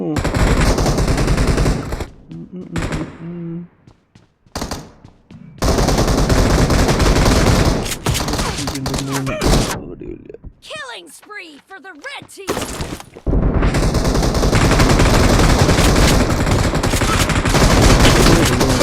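Bursts of automatic gunfire from the mobile battle-royale game PUBG Mobile come in loud rapid volleys, broken by short quiet gaps, with a player talking over the action.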